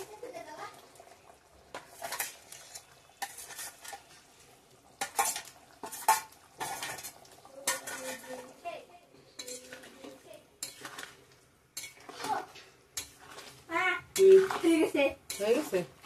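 Paneer added to a simmering curry, with intermittent scrapes and clinks of a spoon against a metal pot, uneven bursts separated by short pauses, and voices talking faintly in the background.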